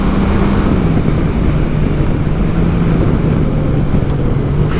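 A Honda Gold Wing motorcycle is ridden at speed, its low steady engine drone half buried under heavy wind rush across the microphone.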